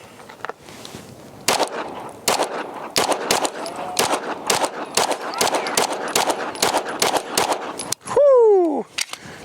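Atlas Gunworks Apollo pistol firing 115 grain rounds on a range, a rapid string of a dozen or more loud, sharp shots at an uneven pace, ending with a brief ringing electronic tone.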